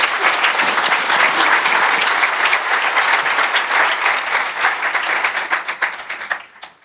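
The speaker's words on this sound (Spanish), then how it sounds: "Un aplauso." Sustained audience applause at a university teachers' forum conference, loud and dense clapping that holds steady for several seconds before thinning into scattered claps and fading out at the end.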